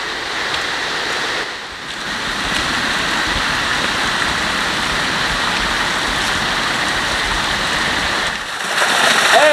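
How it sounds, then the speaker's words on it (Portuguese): Steady rain falling in the morning, a continuous broadband hiss of drops that stays even and fairly loud throughout, with a brief dip near the start and a slight swell at the end; no one speaks. "hoje amanheceu chovendo"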